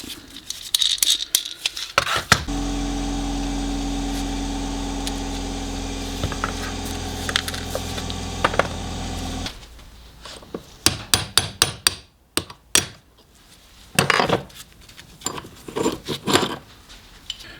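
A loose part pushed onto its bearing rattles and clatters in a mini lathe running steadily, followed by a series of sharp knocks and rattles after the motor stops.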